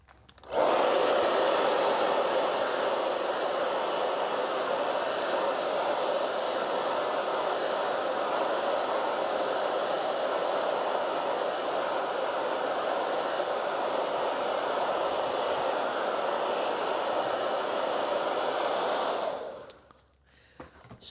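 Hair dryer blowing steadily on an acrylic painting, a loud continuous whir running nearly twenty seconds alone before cutting off abruptly near the end.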